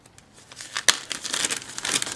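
A white plastic bag is pulled open, giving a close run of crinkling and rustling with a sharp crackle partway through, then continued fidgeting crinkles.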